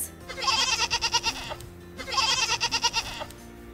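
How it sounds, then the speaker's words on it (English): Goat bleating in two separate, wavering bleats with a quick pulsing tremble, each lasting over a second, loud and close with a short pause between and no talking. "Goat bleats."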